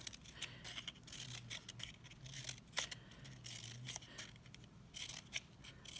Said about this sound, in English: you're going to cut up some little fringy doodads